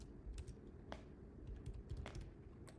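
Keys clack on a computer keyboard in a quiet room, a few distinct taps including a firmer thumb press of the space bar, close and clear without talk.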